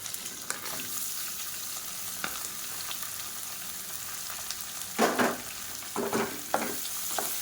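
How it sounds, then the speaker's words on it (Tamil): Steady sizzling and crackling of three large sliced onions frying in a pan for poori masala, with a few louder bursts of stirring or spatter near the end. "வெங்காயம் நல்லா வதக்கி விட்டுக்கலாம்."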